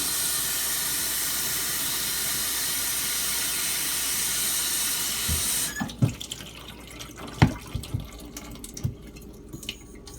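Running water rinses slurry off a 3k Arkansas water stone at a sink, a steady hiss of flow for several seconds, then the tap cuts off and a few close drips and clicks follow.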